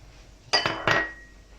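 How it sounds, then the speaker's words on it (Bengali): A pineapple dessert mixture with powdered sugar is stirred in a bowl, giving two quick, bright clinks of a utensil against the bowl, close and short, in otherwise quiet surroundings. "সব দিয়ে আমরা এটাকে নাড়ছি"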